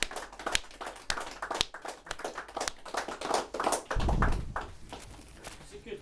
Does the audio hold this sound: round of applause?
yes